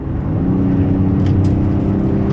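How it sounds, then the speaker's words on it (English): A 2009 Dodge Caravan SE wheelchair mobility van with 233k miles accelerating on the road toward highway speed, a loud steady low engine drone and road rumble heard from inside the cabin, with no talk. "So let me give it a little gas here, get it up to about 70 miles an hour."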